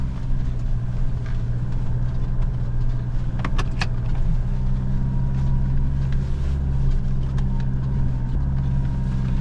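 A 4x4 off-road vehicle driving over a rough track, with steady loud engine drone and rumble throughout, plus a few brief rattles and knocks from the bumpy ground.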